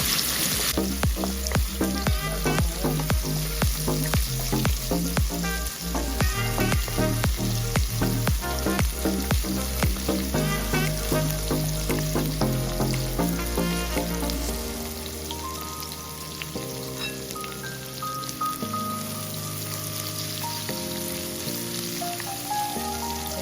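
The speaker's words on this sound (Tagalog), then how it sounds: "Lagyan na natin ng bawang." Garlic sizzles and fries in a pan for Bicol Express, a dense, steady crackle with a brief rhythmic clatter of stirring early on. The frying continues loud and unbroken throughout, with no voices.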